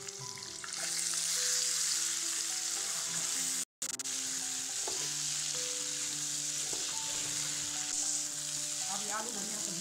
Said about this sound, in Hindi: अब आलू बढ़िया से भुजा गेलै।